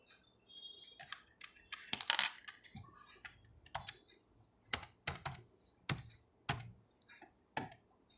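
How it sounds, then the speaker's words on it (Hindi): Close, crisp key clicks on a computer keyboard while entering text into an MS Excel formula bar, a quick burst of taps followed by separate spaced keystrokes amid quiet. "एमराल्ड टाइप कर लेती हूँ।"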